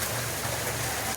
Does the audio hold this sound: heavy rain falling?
yes